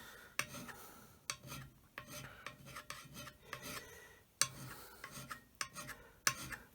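Metal surface plate being hand scraped, producing a rhythmic series of sharp rasping strokes with brief pauses between them, close and clear, with no talking.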